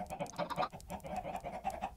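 Chickens in the Minecraft video game give a run of quick, repeated clucks at close range, steady and fairly loud, with no talking.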